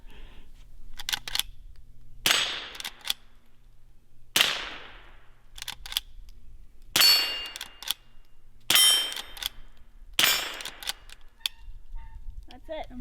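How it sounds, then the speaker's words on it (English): Lever-action rifle fired in a series of about six sharp, loud cracks with decaying tails, spaced a second or two apart, with quieter clicks and handling between them. "what'd you think of your first time shooting a lever gun?"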